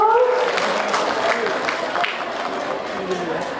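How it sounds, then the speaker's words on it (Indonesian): Audience applause at an official PKK working visit in Siak, Riau, a loud, steady wash of clapping filling the hall, with a voice heard over it at the start. "Boleh kita kasih tepuk tangan yang meriah Bapak Ibu."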